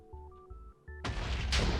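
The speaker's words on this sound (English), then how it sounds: "So this makes an incredibly huge explosion" Custom Lucky TNT in the Minecraft game: a few short game tones, then a sudden loud blast at one second that rumbles on to the end, no voices.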